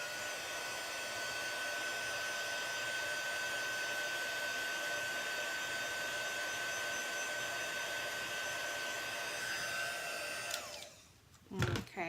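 A hair dryer blows steadily and loud for about ten seconds, drying a watercolour painting made with a no-line stamping technique, then cuts off, followed by brief handling noises.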